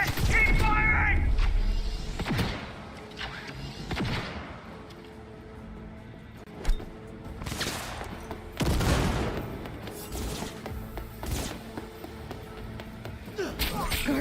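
Gunfire erupts in a Cyberpunk 2077 firefight: a heavy opening burst, then scattered sharp shots and booming blasts spaced through the stretch, with faint voices in between.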